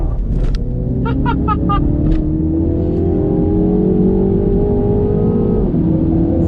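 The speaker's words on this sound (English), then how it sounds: "What a wheel spin!" A 231 hp Mini Cooper S JCW launches hard with wheel spin, its engine rumbling and revving up steadily close by, with a few brief chirps early on and a voice speaking faintly underneath.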